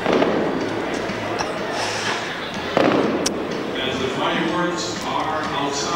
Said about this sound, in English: there's a big firework display outside which has just kicked off